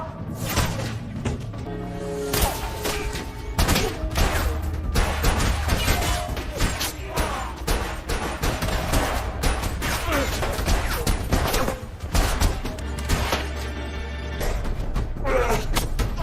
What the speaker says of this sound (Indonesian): Huai melakukan open war dengan menembak salah satu anggota geng Seojin.